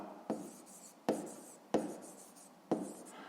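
Pen writing on paper in a fifth-grade math notebook: four separate short strokes, each starting with a sharp scratch and trailing off, close and quiet, with no voices.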